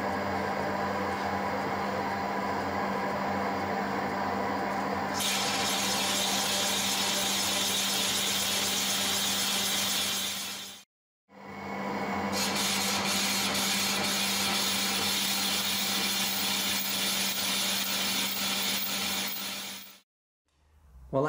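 Metal lathe cutting 1 mm deep reliefs into a tube before threading it: two long, steady runs of machine whine and hum, each about ten seconds, separated by a short silent pause, then cutting off.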